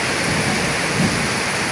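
Heavy rain pours in a steady, dense hiss with a low rumble of thunder beneath, loud and continuous, with no voices.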